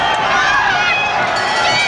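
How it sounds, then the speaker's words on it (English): A boxing arena crowd at the Chris Pyatt versus Sumbu Kalambay bout roars loudly and continuously after the final bell, a dense wall of shouting with voices blended inside. "Well, the crowd have gone mad."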